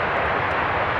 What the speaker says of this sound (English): Here comes Copa 466 from Panama City, 737 MAX 9.